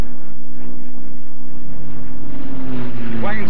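A P-51 Mustang fighter plane drones loudly and steadily as it flies through a mild stall, the propeller and engine hum continuous, with a voice talking over it at times.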